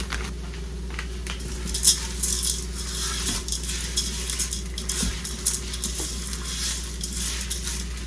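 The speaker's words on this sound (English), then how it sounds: "Mix them around, get those flavors distributed, get those beans nice and coated." Lentils sautéing in a Ninja Foodi pot, stirred with a utensil: soft scraping and light clinks over a faint sizzle and a steady low appliance hum, with no speech.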